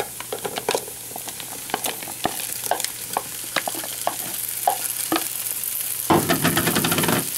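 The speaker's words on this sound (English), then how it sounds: "you're going to want to add your sausage chunks" Sausage chunks and holy trinity vegetables sizzle steadily in a pot for chicken and sausage filé gumbo. A spoon clatters and scrapes through them at irregular intervals, and the frying swells louder near the end. No one speaks.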